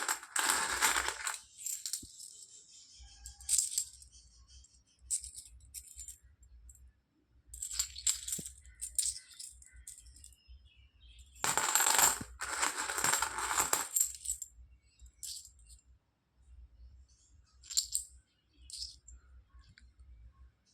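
Old Indian coins from the Bombay mint, including large coins dated 1975 to 1982, clink and rattle in repeated bursts as they are handled and dropped, with short quiet gaps between the metallic jingles.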